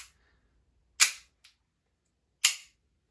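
Sharp mechanical clicks from a Beretta M92A1 CO2 airsoft pistol, two louder snaps about a second and a half apart with a faint tick between them, close up and isolated.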